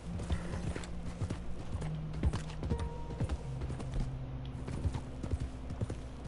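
Horse hooves clip-clop steadily in a PS4 video game, a busy run of close, rhythmic thuds with faint creaks, the footfalls continuing throughout without talk.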